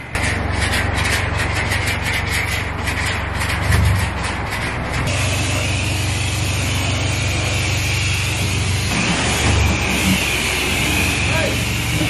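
A car rolls slowly into a drive-in cinema car park with a low steady engine hum and tyres rubbing over the ground, while people talk inside the vehicle throughout.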